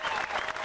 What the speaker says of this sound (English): let's have a really big round of applause for the policemen that are out here keeping us safe today